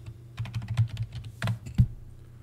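Quick keystrokes click on a computer keyboard as a word is entered into home design software. A short, irregular burst of taps comes up close, with a couple of louder final presses.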